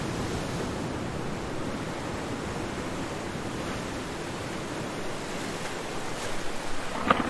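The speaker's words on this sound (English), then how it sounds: "Oh, the wind is really whipping around us." Storm wind whipping around, a steady broadband roar like rushing air or surf, even and sustained with slight gusting toward the end.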